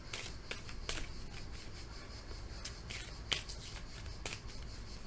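Tarot cards are reshuffled by hand, a series of quick, close riffles and soft snaps spaced irregularly over a few seconds.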